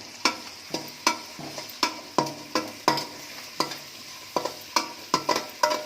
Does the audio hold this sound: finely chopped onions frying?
yes